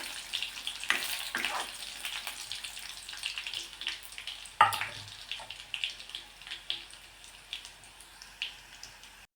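Garlic frying in oil until golden, crackling and spattering continuously with scattered sharp pops and a louder burst near the middle, heard up close with no voices.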